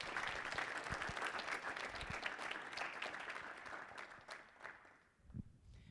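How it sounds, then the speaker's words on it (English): Audience applause at a pitch competition event, dense steady clapping from a crowd that carries on for several seconds before thinning out near the end. "Give a round of applause, please."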